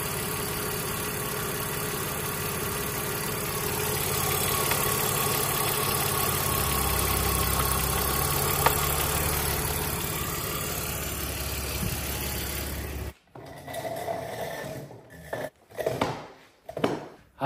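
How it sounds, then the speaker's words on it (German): Car engine idling in a repair-shop setting, a steady close mechanical hum and rumble for about thirteen seconds, then it cuts off abruptly, leaving scattered brief knocks and shuffling noises. "Der Motor läuft doch ganz okay, oder?"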